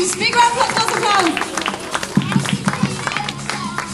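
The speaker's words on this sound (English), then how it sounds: "Big round of applause." A crowd claps and cheers in a burst of applause, with voices calling out over the clapping.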